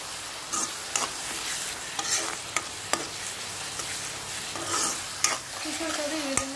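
Curry being stirred in a pan after chili powder and a pinch of turmeric go in, a spoon scraping in steady strokes over a faint background sizzle, with a few sharper knocks against the pan.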